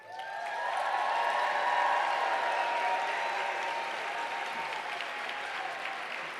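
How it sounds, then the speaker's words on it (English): An audience applauds at a College of Medicine spring convocation, a sustained, dense, even clapping that swells slightly and then holds steady throughout. "let's get a round of applause"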